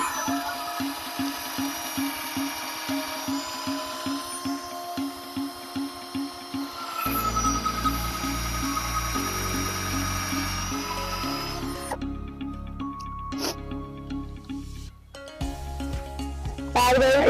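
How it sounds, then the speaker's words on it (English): A power drill drives screws into wooden 4x4s for a raised garden bed, with a rapid buzzing whir followed by stuttering bursts and pauses as each screw seats, fairly close and moderately loud. "right now I'm just going to put 2 screws on either"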